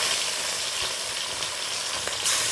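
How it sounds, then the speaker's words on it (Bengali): Pieces of a large katla fish hiss and sizzle steadily in hot oil in a wok, a dense, close frying sound with faint stirring clicks and no talk. "তেলটা গরম হয়ে গেছে, আমি মাছগুলো তুলে দিচ্ছি।"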